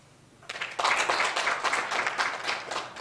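Online university research meeting audience clapping after a speaker, starting from near quiet around half a second in, then swelling into steady, moderately loud applause that carries on to the end.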